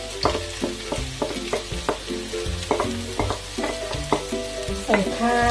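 Rice stir-fried in a pan for Thai egg fried rice, with loud, close, rhythmic spatula scrapes and clanks repeating rapidly over a continuous sizzle.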